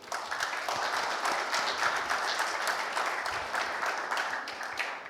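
Steady applause from a crowd at a community meeting fills the space, dense continuous clapping holding at an even level without a break.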